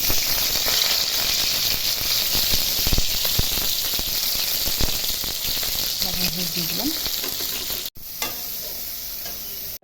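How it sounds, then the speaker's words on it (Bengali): Bitter gourd frying in hot oil in a wok, a loud continuous sizzle with stirring and scraping, a brief voice speaking over it and a short break near the end. "কড়াই তেল দিয়ে দিচ্ছি, করলাটা আগে ভেজে নেব"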